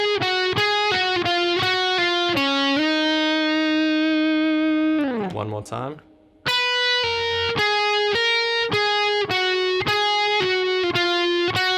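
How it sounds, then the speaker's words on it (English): Electric guitar playing the pull-off lick from a song: quick plucked notes, a held note, a sliding bend, then more picked notes in a steady rhythm, clean and close, with a brief spoken phrase. "So there's 3 pull-offs here."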